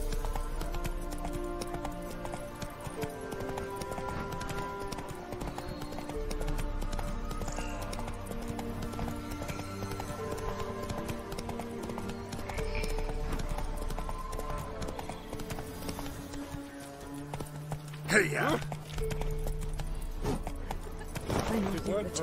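Hoofbeats of the horse Roach in The Witcher 3 clip-clop in a steady running rhythm, close and continuous, over game music and a few voices.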